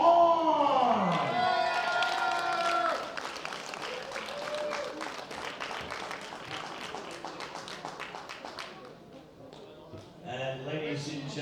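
A crowd applauds a junior silver medalist at a world bench press championship, the clapping and cheering running under an announcer's amplified voice, then fading toward the end as talking resumes.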